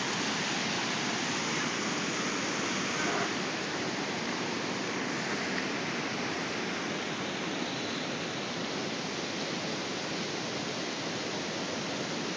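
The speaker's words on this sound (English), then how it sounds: "That's where the water's just bubbling up out of the ground." Water wells up out of the ground after a brief rainstorm in Tennessee, giving a steady, loud, broadband rush like a stream or small waterfall that carries on unbroken with no voices.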